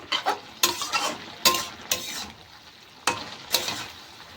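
Bottle gourd greens being stirred and fried in a pan, with a little rice flour mixed in; sharp scraping strokes come in uneven bursts over a soft, steady sizzle, close up and without speech.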